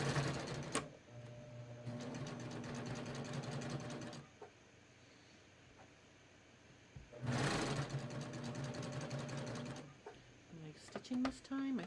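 A cover hem sewing machine hems a tee in two long runs of rapid, even stitching separated by a quieter gap, with a few clicks and handling noises toward the end.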